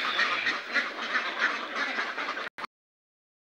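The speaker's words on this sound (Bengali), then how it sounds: "এই দেখেন হাঁসগুলো।" Domestic ducks on a Bangladeshi duck farm quacking steadily in a noisy chorus for about two and a half seconds, then cutting off abruptly into silence.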